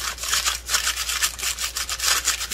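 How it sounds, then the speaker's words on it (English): Folded parchment paper rubbed back and forth over a homemade Eatmore-style candy bar gives a close, steady run of rapid scratchy strokes, about a dozen even swipes with no talking. "I just place it on top, and I rub back and forth"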